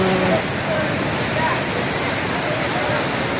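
A large waterfall behind a resort gives a constant, full roar of crashing water, close and loud, with faint voices briefly audible near the start.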